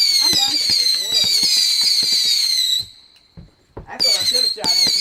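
Fireworks shot off outdoors, a loud stream of crackling pops under a shrill whistling hiss, stopping briefly and then resuming with more bangs and screeching.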